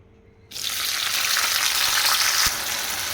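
A tablespoon of oil with tomato pieces added starts frying for Telangana-style tomato roti pachadi: quiet, then a sudden loud, steady sizzle that continues close by, with a single clink near the end and no speech.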